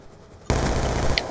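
Rapid automatic gunfire in Black Ops 2 bursts in suddenly after a quiet moment, loud and continuous, rattling close up for the last second.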